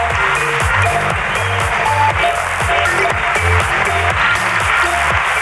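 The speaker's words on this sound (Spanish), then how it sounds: "Aplauso para la ruina de Isabel" Audience applause at a live comedy podcast recording fills the space loudly and continuously, with a rhythmic musical pattern running underneath.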